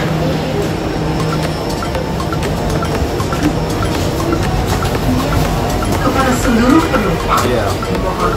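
A Jakarta MRT subway train at Bundaran HI station makes a steady rumble and rail noise throughout, close and loud, as people talk nearby.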